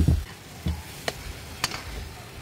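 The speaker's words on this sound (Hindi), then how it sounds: "तो अब इसमें डालूंगी मैं आलू।" Potatoes dropped into a pan of cooked tomato masala and stirred, soft scraping strokes and light sizzling with a few sharp ticks of the spoon against the pan, close and fairly quiet.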